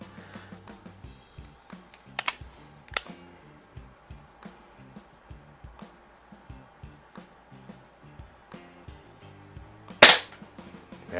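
An Umarex Browning Buckmark air pellet pistol fires a string of sharp, snappy shots, two standing out louder early on and one big crack near the end, with quieter regular clicks of handling between them and no talking.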